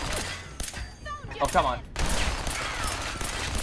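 Turrets fire rapid bursts of gunfire in Fallout 4, sharp cracks and clatter in the foreground, with a brief voice cutting in between the volleys.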